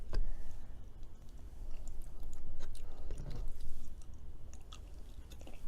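Close, wet chewing of fruity berry cheesecake brownies, with soft rhythmic mastication and occasional small clicks, no talking.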